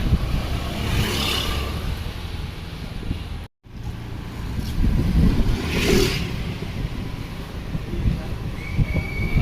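A two-wheeler rides off along a road, its engine and rushing road noise steady and close, with passing traffic swelling by and a brief abrupt cut partway through.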